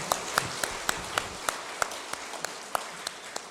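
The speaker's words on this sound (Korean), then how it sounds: "힘찬 박수 부탁드립니다" A Sunday church service congregation gives applause, heard as a thin, fairly faint scatter of separate claps in an uneven rhythm, a few hands rather than a full crowd.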